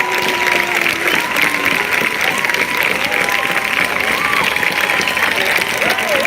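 A crowd at a Black Lives Matter protest on Higuera Street in San Luis Obispo applauds outdoors, loud continuous clapping and cheering with voices and shouts mixed in throughout.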